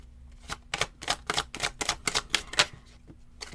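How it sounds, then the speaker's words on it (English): Seven chakra cards being drawn from a deck during a morning meditation: a quick series of about ten crisp, papery snaps and taps close to the microphone, with no voices. "So I'm going to pull out 7 cards."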